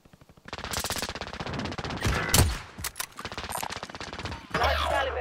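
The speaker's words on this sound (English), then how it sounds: "Large caliber here. Under enemy fire." Rapid automatic gunfire in Call of Duty Modern Warfare, sustained bursts of loud, dense shots through most of the stretch with brief pauses, ending in a heavier, louder volley.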